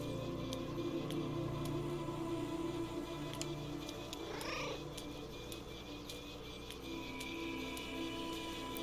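A cat purrs steadily and close in the Kentucky Route Zero video game, a low continuous rumble under soft ambient game sounds with faint ticking, while a brief rising chirp cuts in midway.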